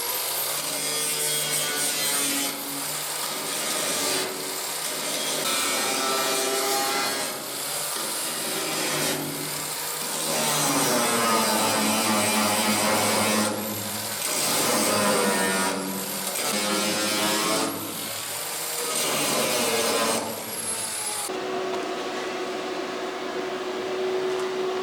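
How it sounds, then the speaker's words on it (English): An angle grinder scours rust off a steel boat weld, its loud abrasive grinding rising and falling in repeated passes over a steady motor whine, then easing to a quieter hum at the end. "I'm just going to quickly give it a clean up with the grinder to take a bit of the rust off the top."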